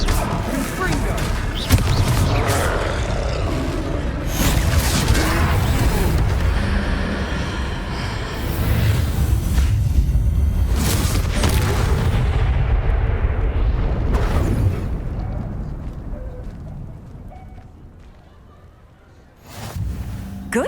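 Fiery blasts from the Confringo spell in Hogwarts Legacy during a troll fight, a dense run of loud booms and crashes layered with battle noise and voices, easing off toward the end.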